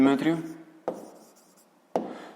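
A pen writing out a math problem, a brief spoken word up front, then two separate firm scratching strokes on paper, close and quiet.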